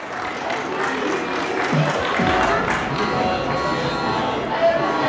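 Applause from the crowd at the finish line of the 2014 Montargis half marathon as a runner crosses, steady clapping and crowd noise running throughout beneath an announcer's voice.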